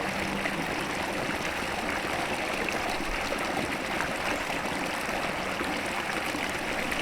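Phanaskond stream in a Konkan village during the monsoon, water flowing in a continuous, even rush that is fairly faint and steady throughout, with no voices.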